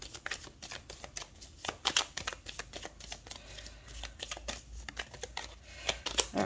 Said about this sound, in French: on va faire un tirage en 13 cartes avec le nouvel Eteia